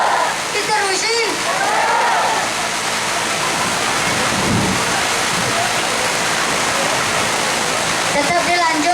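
Heavy rain pours during an outdoor live show in Pamarican, Ciamis, making a loud, dense, continuous hiss and splatter. A voice talks faintly underneath it at the start and again at the end.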